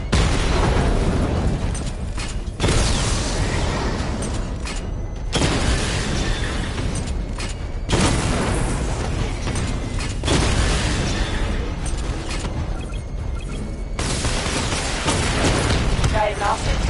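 Repeated heavy explosions from a Batmobile barrage in a Batman video game, loud booming blasts arriving in waves every few seconds with mechanical clatter between them, and a voice speaking at times.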